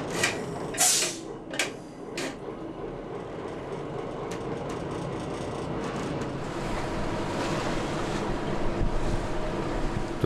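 A small cargo ship on the stormy North Sea, lighter after unloading, rolls in heavy waves: a constant roar of wind and water with engine rumble beneath and a few sharp knocks early on.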